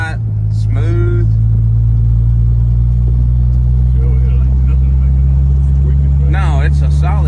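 A custom Studebaker roadster's little flathead six-cylinder engine runs with a steady, smooth low hum at close range, while someone talks briefly over it near the start and end.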